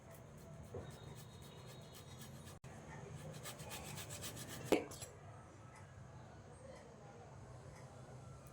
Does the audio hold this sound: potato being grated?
yes